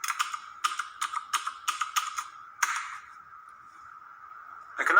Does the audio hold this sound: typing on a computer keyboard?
yes